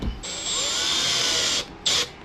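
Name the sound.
power drill driving self-drilling screws into storage box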